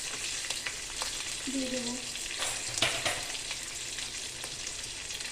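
Curry leaves, garlic and green chillies fry in hot oil with a steady, close sizzle that runs throughout, broken by an occasional clink of stirring and a brief spoken phrase.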